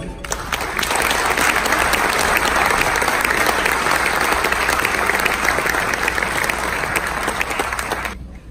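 Steady, loud applause from a large audience at the annual meeting of the National College of Military Physicians in Oaxaca, sustained clapping for about eight seconds before fading out.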